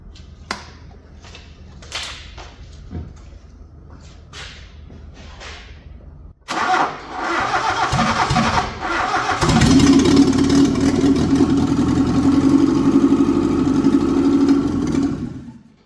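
After a few quiet clicks and taps, a Toyota Corolla KE20 engine cranks and catches, then settles into a loud, steady idle close by that runs to the end, with no talking.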